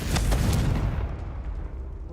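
A Confringo blast spell from the Hogwarts Legacy game bursts loudly up close with a single heavy boom, then rumbles and fades into a low roar.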